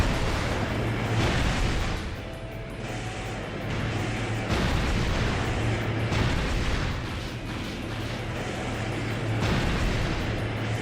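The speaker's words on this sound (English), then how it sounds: "Oh my God, can these missiles stop?" Missiles explode again and again in the Armored Core video game, making a dense, continuous roar of booms and rumbling blasts. The barrage stays loud throughout, and no voice can be heard.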